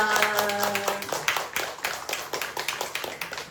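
A church congregation claps to welcome a newcomer during a service: a burst of many hands clapping, loud at first then settling into an uneven patter, with a few sustained tones and voices underneath at the start.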